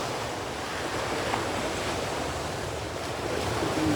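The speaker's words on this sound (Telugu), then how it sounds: "Rock beach in Pondicherry." Waves washing onto Rock Beach in Pondicherry, a steady, broad surf roar with wind buffeting the microphone, continuous and fairly close for the whole stretch, no voices.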